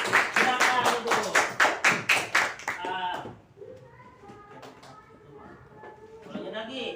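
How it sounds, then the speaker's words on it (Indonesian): A classroom claps for a student: about a dozen crisp, rhythmic hand claps in quick succession, then they stop and quiet talk and murmuring carry on. "tepuk tangan saudara Rapi"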